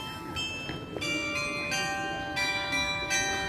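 Small bells ring in a historic old town quarter, their bright, scattered strikes repeating at irregular intervals over quiet background hum.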